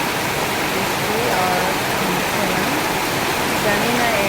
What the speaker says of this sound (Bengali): এত বৃষ্টি রাত তিনটে থেকে বৃষ্টি হচ্ছে